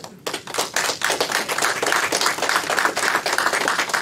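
Audience applause at an outdoor press conference, steady clapping from a small crowd that starts abruptly after a brief silence and continues at a sustained, fairly close level.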